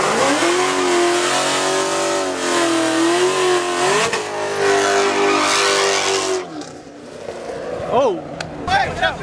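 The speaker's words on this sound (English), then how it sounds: "So two burnouts, one lunch." A K-series engine in a Honda CRX revs hard and steadily through a burnout in Mexico, a loud sustained high-pitched drone that cuts off abruptly, followed by quieter scattered noises.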